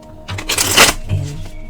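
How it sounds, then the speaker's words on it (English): A quick papery riffle of tarot cards being shuffled, close and crisp, building to a brief flutter before settling; no voices. "I gotta shuffle first"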